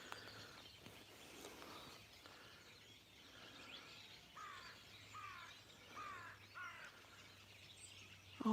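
Small birds chirp faintly and repeatedly in the distance, scattered short calls over a steady low hum outdoors.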